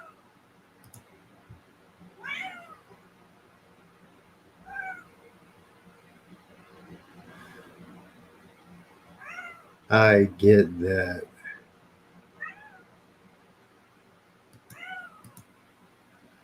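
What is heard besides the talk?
cat meowing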